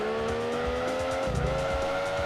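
A car in the video game Gran Turismo 2 losing its back end, tyres squealing and skidding over a loud, high-revving engine whose pitch dips midway, with no talk.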